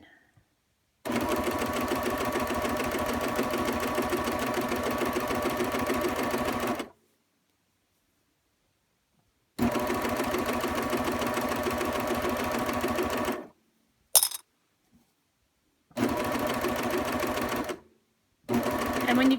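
Coverstitch sewing machine stitching a hem on fabric, a steady close mechanical whir running in several long bursts separated by silent pauses.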